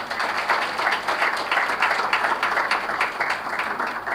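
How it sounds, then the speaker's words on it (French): Audience applause at a ceremony honoring figures in the fight against high living costs, given for the head of state: steady, dense clapping sustained at even loudness throughout, with no voices over it. "Je voudrais qu'on puisse applaudir le chef de l'État"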